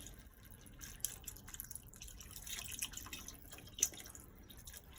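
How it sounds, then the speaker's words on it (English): Vegetable broth pours into a cooking pot as a faint, close liquid trickle and splash with a few small drips and one brighter splash near the end, quiet and with no talking. "We're going to add our vegetable broth."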